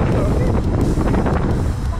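Violent wind buffeting the microphone at a national park near San Francisco, a loud, close, continuous roaring rumble with gusty surges and no clear talk.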